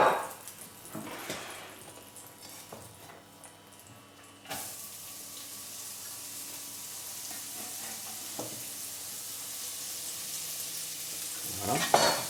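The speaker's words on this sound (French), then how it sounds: "je garde un peu de matière grasse dans la poêle et je vais faire revenir les oignons" Onions sautéing in leftover smoked bacon fat in a frying pan, a close, continuous sizzle that swells after a few seconds, with occasional utensil scrapes and no speech.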